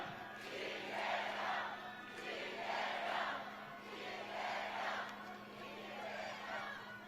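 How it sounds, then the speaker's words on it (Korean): A crowd at a Gyeonggi-do presidential campaign rally in Namyangju cheers and chants in rhythmic swelling waves, fairly distant and roomy, with a steady hum beneath and no distinct speech. "뜨거운 박수 함성으로 맞아주십시오"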